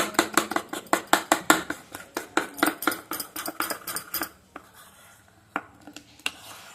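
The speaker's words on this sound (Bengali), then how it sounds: "হাফ চামচ মধু দিয়ে ভালো করে ফাটিয়ে নেব। সব একসঙ্গে ফাটিয়ে নেবো এইভাবে।" A spoon beats a homemade face pack with half a spoon of honey in a bowl, sharp rapid scraping clicks in a steady rhythm close by, then slowing to a few scattered taps.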